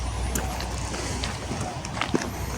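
A car passes on a road at night, a steady broadband rumble of engine and tyres with a few faint clicks, no talk in the clip.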